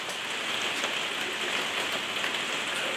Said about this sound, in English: I hope you can hear me over this rain.